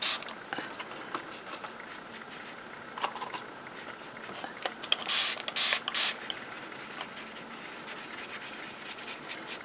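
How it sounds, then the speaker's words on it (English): Hand-pumped spray bottle from a beauty supply store misting very finely, heard as a few short bursts around the middle against a quiet background with light rustling. "I like that it sprays very fine mist."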